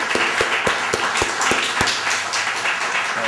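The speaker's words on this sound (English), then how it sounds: "let's give Brother Brian Flack a great round of applause" An audience at a poetry reading in the Bayview Branch Library claps for a poet, with a steady run of close, sharp hand claps from a modest crowd.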